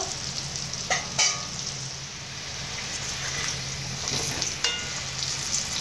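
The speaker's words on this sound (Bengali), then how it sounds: "আর কিছুক্ষণের জন্য আলু ভেজে নেব, এরপর তুলে নেব।" Steady crackling sizzle of potatoes frying in oil, with a few sharper scrapes and clinks of stirring now and then.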